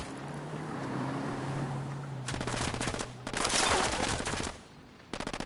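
Bursts of automatic gunfire crackle in the Ghost Recon tactical shooter game, rapid rattling volleys starting after a low engine drone, growing louder in the middle and tapering off to short final bursts.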